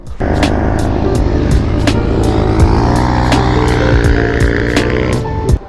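A KTM motorcycle engine revs steadily during a wheelie attempt, a loud, close, continuous drone with sharp periodic pulses, no one talking.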